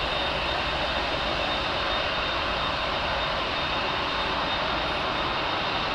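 Airliner on arrival at Heathrow Airport, heard as a steady, continuous engine roar with broadband rush that stays even and fairly loud throughout, with no voices.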